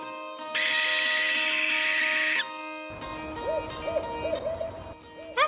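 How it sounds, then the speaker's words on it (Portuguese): An owl hoots several times in a row, short wavering calls heard over a steady tonal background hum. "Coruja."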